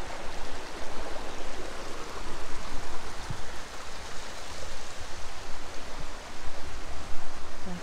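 A mountain stream in the Khamar-Daban range rushes at a confluence, giving a loud, continuous broadband wash of flowing water close by with no other sounds.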